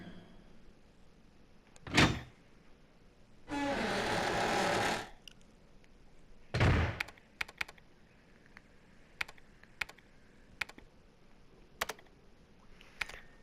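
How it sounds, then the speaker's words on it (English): Keyboard typing in the video game Resident Evil Code Veronica X, heard as scattered faint key clicks in a quiet facility room, mixed with a couple of louder thuds and a mechanical whooshing sliding-door sound. "And we hear some typing going on."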